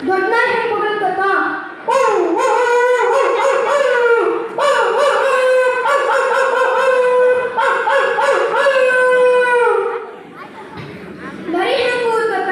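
At a school talent event, a child imitates a big dog howling with long, drawn-out, rising and falling howls, loud and close, separated by short breaths and a pause near the end.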